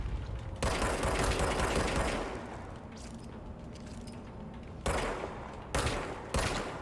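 Gunfire from the protagonist's one-handed pistol in the action game Control, delivered as a dense rapid burst of close shots followed by several single cracks, loud and without talk.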